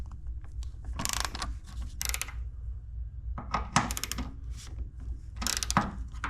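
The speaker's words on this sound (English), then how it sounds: "all we got to do is loosen up these fasteners" A ratcheting tool works fasteners loose on a car door striker, sounding as several clustered bursts of quick metallic clicks over a steady low rumble, close and fairly quiet.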